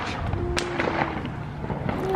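Fireworks popping outdoors at a Fourth of July family gathering, with sharp cracks and bangs over steady background noise while voices murmur nearby.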